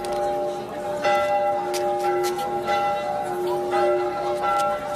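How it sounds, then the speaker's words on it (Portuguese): Church bells in Lisbon ring out to call the faithful to mass, their strikes overlapping into a sustained, clear metallic peal at moderate volume. "Os sinos confundiam os seus toques a chamar os fiéis"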